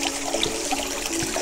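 Clear running water from a stream in a dense forest near Bhowali, Nainital, a steady close trickling flow with no voices over it.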